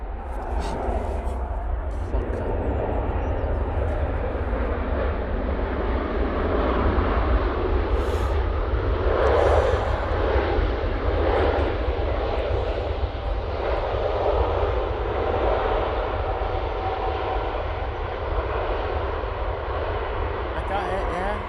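An Emirates airliner at Manchester Airport, its engines a loud, continuous roar that swells slightly midway, with voices chatting over it.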